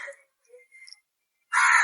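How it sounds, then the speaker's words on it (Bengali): Crows caw outdoors as dusk falls: a few brief, distant calls, then a louder, harsher caw close by. "পাখিদের ডাকাডাকি শোনা যাচ্ছে"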